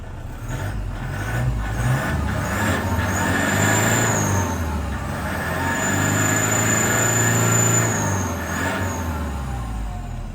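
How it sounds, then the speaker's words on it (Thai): A used Toyota Vigo 2.5 pickup engine is revved up close, its rising, droning roar swelling and then easing before climbing again, heard alone without talk. "เดี๋ยวผมจะเร่งเครื่องให้ดูนะครับ"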